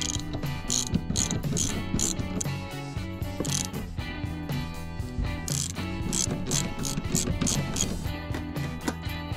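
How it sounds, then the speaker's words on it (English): A ratchet with a socket works loose the seat bolts on a fifth-generation Camaro, giving fast, steady clicking bursts that run close and loud through the whole stretch with no talk. "I'm gonna start with a ratchet and a 250 socket."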